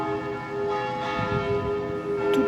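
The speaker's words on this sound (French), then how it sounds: "devant le presbytère, les cloches sonnent" Church bells ring out in front of a presbytery, a full, resonant peal sustained throughout with overlapping strokes and a rich, humming ring, loud and steady, with no talking.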